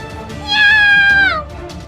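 A cat meows twice in an animated Halloween folktale about a cat yokai, a clear rising-and-falling cry standing out over a soft music bed, with no speech over it.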